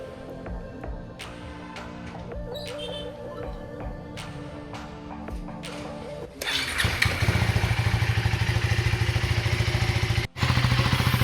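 A KTM Gen3 Duke 390 motorcycle after its second service. Workshop clatter and scattered clicks come first, then the engine starts at about six seconds and settles into a loud, close, steady thrumming idle with a brief dip near the end.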